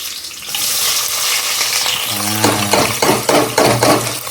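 Chopped onions drop into hot oil in a pan for biryani in a village home kitchen, bursting into loud, close sizzling, followed by a rhythmic series of scraping stirs over the steady crackle, with no voices.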